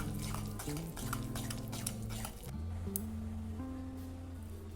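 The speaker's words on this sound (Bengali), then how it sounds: "চিনিটাকে মিক্সিতে গুঁড়ো করে এবার তেলের সাথে ভালোভাবে মিশিয়ে নিতে হবে" A spoon scrapes and clinks against a bowl while powdered sugar is mixed into oil for an eggless orange cake batter, quiet, repetitive stirring noises under a steady tonal hum from background music.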